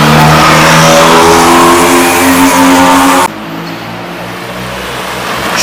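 A Ferrari engine revs loudly and close, a sustained growling roar for about three seconds before cutting abruptly to a much quieter, low background rumble.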